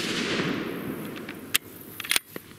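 Sharp report from a 6.5 Creedmoor AR10 rifle firing a five-shot group at a range, with one loud crack midway and a second burst of sharp cracks near the end over outdoor background noise.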